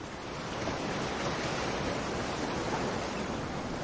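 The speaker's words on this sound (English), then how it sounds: "We selected some ocean music today to tune into for our meditation." Ocean waves wash in a steady, full roar of surf, continuous and fairly loud across the short stretch, with no voices over it.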